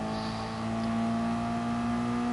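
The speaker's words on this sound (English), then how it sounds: "It's a little too high in the revs when I'm going down to it for a corner." Toyota race car engine in a racing video game, a sustained high-revving steady drone, loud and close, with no voices.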